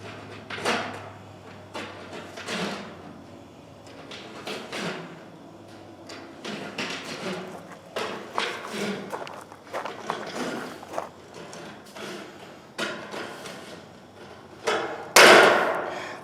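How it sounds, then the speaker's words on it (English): Hand snips cutting a metal standing-seam roofing panel: a series of sharp clipped snips and metallic crunches spaced irregularly, close by, with shuffling handling noise and a final loud clatter. "There are much better ways to do this than hand snips"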